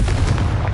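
A Confringo fire spell from Hogwarts Legacy detonates in a single short, loud, booming blast with a dense low-end thump.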